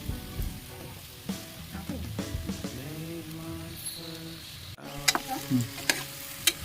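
Marinated chicken for a pressure-cooker chicken biryani fries in a pot while being stirred, with a crackling sizzle, scraping stir strokes, and sharp clinks and knocks toward the end, close and fairly loud.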